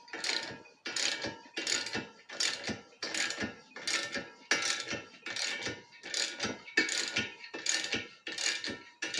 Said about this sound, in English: and then you tighten the bolt